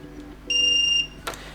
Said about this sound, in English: press and hold on two buttons at once, the schedule and oscillation button, until you hear a long beep